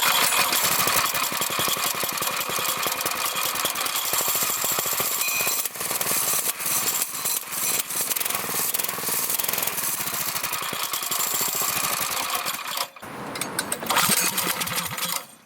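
A Predator 212 small gasoline engine with its factory stock muffler runs steadily and loudly, with a dense buzzing drone that briefly dips before picking back up near the end.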